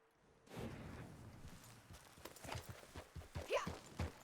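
Horse hooves clip-clop at a walk in snowy terrain in the video game Red Dead Redemption, a fairly close, steady run of soft thuds over a low ambient bed, with no talk.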